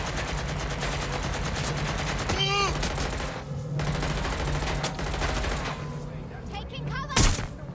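Rapid bursts of automatic gunfire crackle through a Watch Dogs: Legion firefight, dense and continuous with a loud crack near the end, while voices call out briefly underneath.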